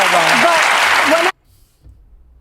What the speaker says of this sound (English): They got the audience clapping for a hat that says "Make America Go Away," and the audience is clapping.